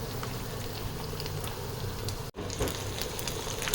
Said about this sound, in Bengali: বড়াগুলোকে ভেজে নিই আঁচটাকে কম করেই রেখেছি